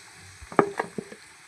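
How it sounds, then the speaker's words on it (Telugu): Ginger paste goes into hot oil in a home kitchen pan, giving a few soft, brief sizzling bursts and stirring scrapes against a quiet background. "అల్లం పేస్ట్ వేస్తున్నానండి"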